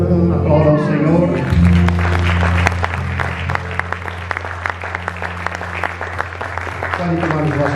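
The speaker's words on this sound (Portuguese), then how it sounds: "Aplauda ao Senhor." A church congregation at a family service applauds over sustained music, with scattered sharp claps rising after a voice and continuing steadily beneath the instruments.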